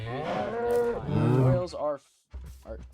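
Cows mooing in a video game farm: several long, deep, overlapping moos close by, then a short pause and a few quieter lowing sounds.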